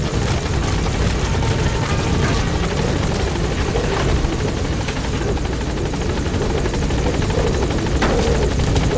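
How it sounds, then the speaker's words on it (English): A support helicopter in the video game Metal Gear Solid V: The Phantom Pain thumps loudly and steadily, rotor chop and engine whine droning close throughout. "Support helicopter has arrived."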